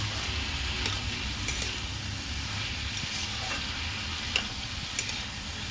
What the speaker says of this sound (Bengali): এই হালকা মশলা দিলাম, অল্প একটু মশলা দিয়ে কষে নিচ্ছি